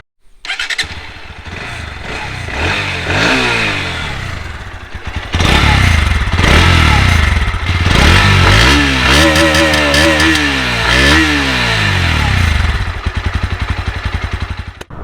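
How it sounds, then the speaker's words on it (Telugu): A 2023 Bajaj Pulsar NS 160 motorcycle with an E20-ready engine starts and revs hard several times, its exhaust rising and falling in loud, close sweeps with a brief squeal, no voices. "అండ్ లేట్ చేయకుండా మనం ఎగ్జాస్ట్ నోట్ విన్ అయితే రైడ్ అయితే చేద్దాం."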